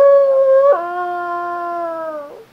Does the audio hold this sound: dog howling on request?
yes